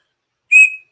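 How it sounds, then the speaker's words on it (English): A vintage 1970s gold-tone KORET whistle gives one short, shrill, clear blast lasting about a third of a second, close and loud in an otherwise silent moment. "KORET, correct whistle. Can I blow on it?"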